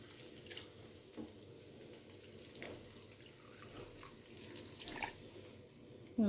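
A glass of water poured into a pot of tomato and harissa sauce for a fava bean dish, a soft, uneven splashing trickle lasting several seconds at low level.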